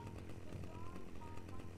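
A chainsaw in the co-op video game Guns, Gore & Cannoli 2 runs with a continuous rough mechanical buzz at low volume, steady through the short stretch and mixed with game background noise.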